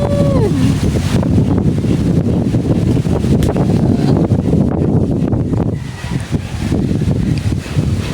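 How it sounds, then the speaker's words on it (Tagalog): Strong wind buffeting the microphone on a rural province morning among tamarind trees, a loud continuous roaring rush with gusty swells and a brief lull, a faint whistle at the start. "Lakas talaga ng hangin"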